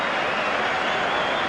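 Sustained applause from a football crowd at a 1992 Zenith Data Systems Cup match between Nottingham Forest and Southampton, a steady dense wash of clapping with no breaks.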